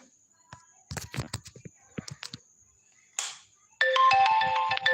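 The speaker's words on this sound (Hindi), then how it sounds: "किसी का फोन भी आ रहा है।" A phone ringtone plays a bright, repeating electronic melody near the end, after a stretch of soft whispery voices and rustling handling sounds.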